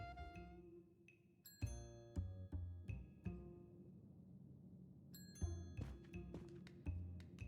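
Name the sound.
bell ringing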